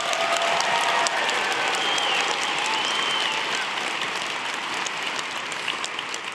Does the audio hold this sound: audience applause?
yes